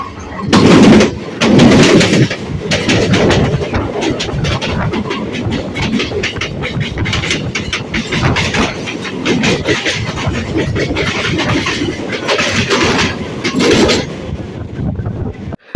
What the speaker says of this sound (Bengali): ব্যারাকপুর স্টেশনটা ছেড়ে দেওয়ার সাথে সাথেই আমাদের ট্রেনটা গতি নিয়ে নেয়